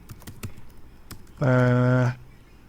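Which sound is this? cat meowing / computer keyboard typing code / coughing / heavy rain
computer keyboard typing code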